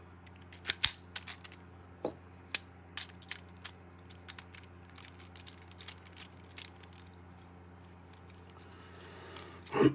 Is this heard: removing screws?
yes